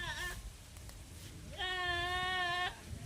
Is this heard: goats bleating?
yes